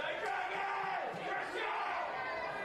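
Rugby league crowd at a men's premiership preliminary final in the Northern Territory chanting in unison, a loud sustained roar of many voices filling the ground.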